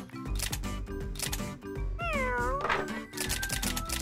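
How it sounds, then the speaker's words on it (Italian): A kitten meows once in a drawn-out, rising and falling call midway through a children's animated Pokémon scene, set over busy, rhythmic background music. "Miau! Sei qui dentro! Bravo gattino!"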